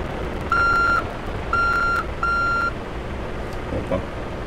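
Reversing beeper on a truck in the MTA Province driving game, three evenly spaced steady beeps of about half a second each over a constant engine rumble, with a fainter short tone near the end.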